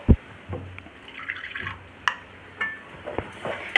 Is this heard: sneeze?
no